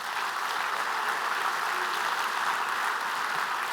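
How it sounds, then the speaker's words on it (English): Audience applause at a port's state-of-the-port business presentation, a steady wash of many hands clapping, even and somewhat distant, with no voices over it. "one round of applause for that."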